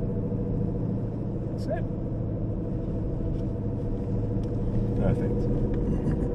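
An Aston Martin Vantage accelerates at Silverstone with a steady, close engine rumble throughout, while an instructor's voice talks over it.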